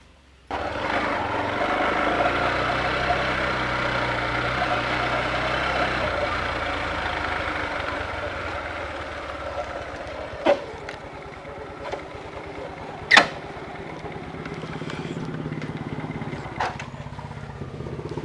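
A stopped vehicle's engine idles as a steady low rumble that runs throughout at moderate level. A few sharp clicks or knocks stand out near the end, and no one speaks.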